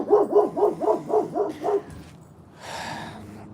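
A dog barks in a quick run of about seven sharp, evenly spaced barks, close and loud, then falls quiet before a brief hissy rustle.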